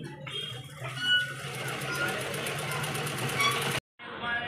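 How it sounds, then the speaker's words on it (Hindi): Sewing machine running steadily as it stitches a seam along the double-folded fabric of a baby princess frock, a continuous close mechanical whir that cuts off abruptly near the end. "हम यहाँ पर सिलाई डाल देंगे पहले।"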